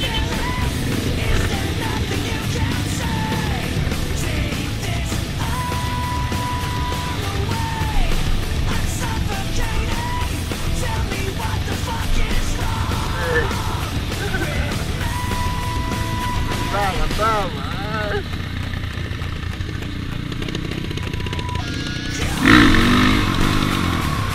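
Off-road trail motorcycles ride together on a relaxed outing ahead of Indonesian Independence Day, engines droning steadily throughout with rising and falling revs, while people's voices and shouts come and go over the motor noise.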